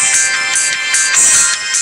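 Electronic ringtone from a cell phone indoors, close and fairly loud, pulsing in regular repeated bursts with no voices.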